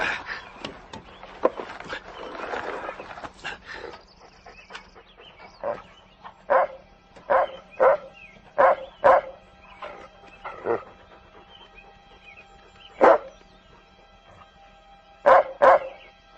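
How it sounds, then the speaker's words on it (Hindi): A dog barks about a dozen times in sharp, spaced-out barks at an irregular rhythm, fairly close. Some rough background noise runs underneath at the start, and no one speaks. "तू क्यों भौंक रहा है?"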